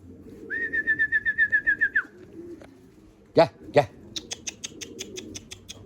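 Pigeons coo nearby with soft rhythmic calls while bathing in 35° heat, joined by a high repeated whistle, a couple of sharp sounds, and rapid chirping at the end.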